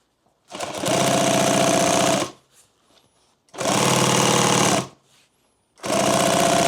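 Heavy-duty sewing machine stitching thick ballistic nylon for a duffle bag, running in three loud sustained bursts of rapid stitching separated by short pauses.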